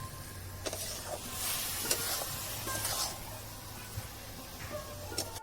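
Motichur laddu mixture stirred in a pan, a soft scraping and sizzling texture with occasional sharp clinks of the spoon against the pan, steady and close, no voices.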